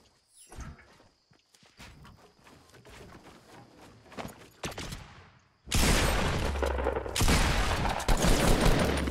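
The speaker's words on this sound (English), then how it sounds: "Hey, stop shooting at me." Gunfire and footsteps in Fortnite Battle Royale, with scattered shots and steps giving way to a loud, dense burst of rapid fire that continues to the end.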